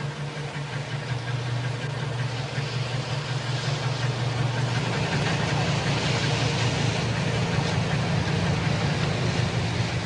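Diesel engines of fishing cutters chug steadily as the boats enter the sheltering harbour at day's end, a continuous low, loud throb that stays unbroken throughout.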